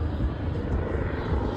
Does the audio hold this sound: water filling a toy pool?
no